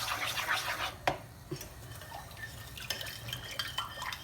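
Syrup pours onto hot, bubbling flour halva in a pan, making soft liquid splashes and sizzling patters with a few small clinks, quiet and close.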